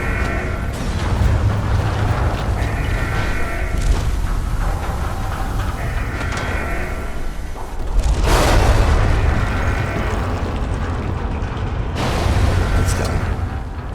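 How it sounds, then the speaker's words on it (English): An explosion in the stealth game Dishonored: The Knife of Dunwall, a loud booming burst around the eighth second with a second surge near twelve seconds, over continuous rumbling game ambience. "it's about to explode!"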